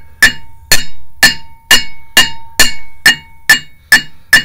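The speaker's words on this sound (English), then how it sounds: "I'm tipping my hammer out slightly so that all of the impact is going out." A hammer taps during a clutch install on a Subaru EJ25 engine: nine evenly spaced, sharp metallic strikes with a short ringing tone, close and loud, with no talking.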